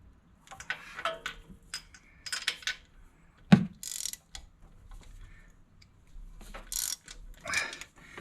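Ratchet wrench loosening spark plugs on an engine during gasket repair, heard as bursts of quick metallic clicking with a sharp clank partway through, moderately close and with no talk.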